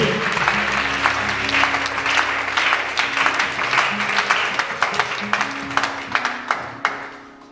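A church congregation applauding at a testimony service, a full, steady round of clapping with sharper individual claps standing out as it tapers near the end.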